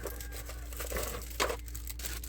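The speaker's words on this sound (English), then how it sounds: "Let me find something to do this on. One of these plastic bags." Plastic bag crinkling and rustling close by while it is laid out as a work surface for building a cuckoo clock house, with a sharper crackle partway through; no one speaks.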